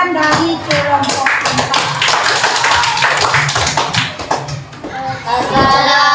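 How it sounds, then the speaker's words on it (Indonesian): Audience in a classroom setting clapping for a student group's performance, a dense, steady patter of many hands with children's voices mixed in, loud and close throughout. "sekarang kita kasih tepuk tangan untuk penampilan dari kelompok"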